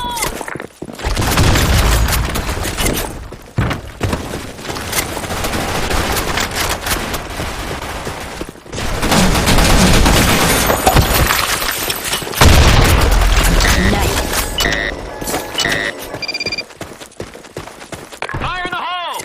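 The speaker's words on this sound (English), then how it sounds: "Fire in the hole! Grenade!" Grenade blasts and rapid gunfire in a first-person shooter game on the Sand Storm II map, dense bursts of shots and booms one after another, with voices shouting under the firefight.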